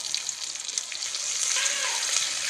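Cumin, asafoetida and neem leaves crackling in hot oil, a brief soft sizzle and hiss, fairly faint and continuous, no talking.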